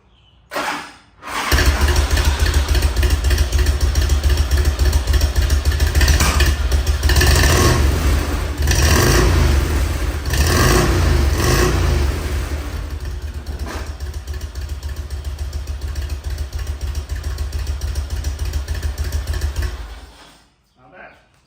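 Harley-Davidson motorcycle fitted with 2008 or 2009 CVO takeoff exhaust pipes starts up and runs loud and close, with several throttle blips and revs before idling and shutting off.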